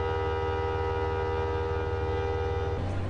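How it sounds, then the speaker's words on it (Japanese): JR Kyushu's Seven Stars in Kyushu luxury sleeper train at Hakata Station gives a steady, loud rumbling drone with a sustained tonal whine that shifts abruptly near the end. "JR 九州の豪華寝台列車七つ星 in 九州。"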